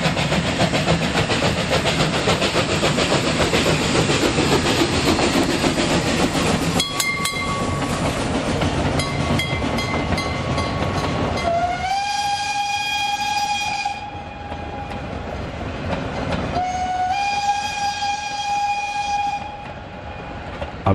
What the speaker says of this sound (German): Der erste Zug des Tages wurde von der 116 Jahre alten Hoya geführt